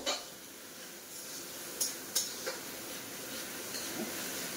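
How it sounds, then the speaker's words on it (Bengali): Chicken meat being sautéed in a pan with curry spice paste for doi chicken: a low steady sizzle with a few sharp scraping stir clicks from a spoon against the pan, faint and close. "এই মাংসটার জন্য এই যে তরকারির যে মশলা দিয়েছি এটা ভালো করে কষে নেব।"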